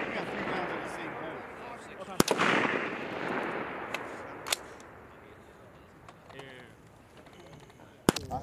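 M110A1 semi-automatic rifles fired by U.S. Army soldiers of the 44th Infantry Brigade Combat Team on a long-range live-fire range: three sharp, loud reports spaced well apart over steady outdoor background, with faint voices in between.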